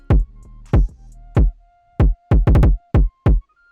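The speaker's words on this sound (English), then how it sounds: "the Moombahton kick, the super loud one" Very loud, distorted Moombahton 808 kick drum with a soft clipper, hitting in a punchy syncopated pattern of about nine booming thumps with brief decays and a faint tone between hits; no voices.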